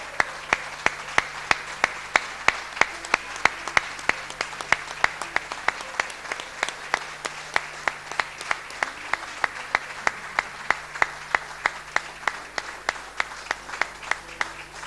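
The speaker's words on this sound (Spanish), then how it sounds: "Juan Jiménez, este aplauso es para usted" An audience applauds Juan Jiménez at a folk music gathering, a sustained clapping crowd with a loud, regular rhythmic beat of claps running through the whole stretch.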